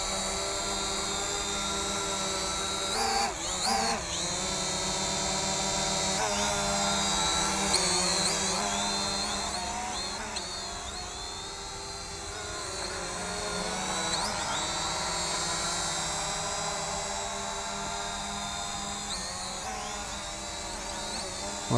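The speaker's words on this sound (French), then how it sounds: "On va armer les moteurs tout de suite et faire un décollage automatique." An Eachine E520S GPS quadcopter drone arming its motors and lifting off in automatic takeoff, producing a loud continuous whine of several rotors that holds steady with slight shifts in pitch.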